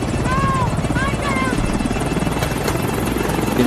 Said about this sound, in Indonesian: Beberapa helikopter mengepung Skoci